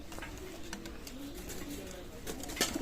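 A pair of Pakistani golden pigeons coo softly at a pigeon loft, their low murmuring calls repeating over a busy, noisy background.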